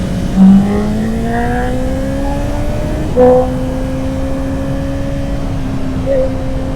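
A 2026 Honda CB650R motorcycle engine revs up in long rising sweeps, loud and close, with brief throttle blips between climbs and no talk.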